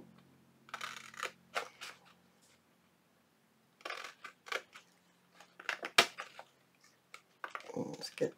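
Scissors cutting paper to make envelopes, trimming away inked portions: several bursts of crisp snipping and rustling close by, separated by pauses, with one sharp click partway through.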